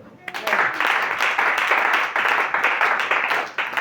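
A church congregation applauds at a thanksgiving service, with dense, steady clapping and cheering that starts suddenly and carries on at an even level, moderately loud and close.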